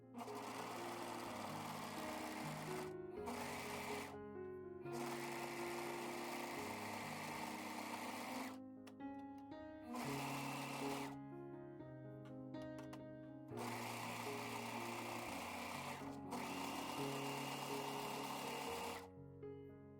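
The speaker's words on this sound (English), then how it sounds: "And I'm going to just start sewing." An overlock serger runs a 4-thread stitch along the raw edge of monk's cloth, with long steady whirring stretches broken by brief pauses, close and loud, with no talking.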